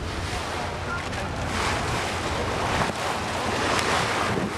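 A tour boat sets off along the River Thames in London, heard as a continuous rush of wind, water and engine noise battering the microphone, loud and steady throughout.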